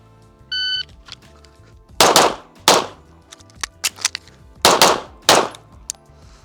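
Pistol shots during a shooting drill, fired in loud, sharp pairs and bursts with short pauses between groups, some fainter metallic clangs in between, no talking.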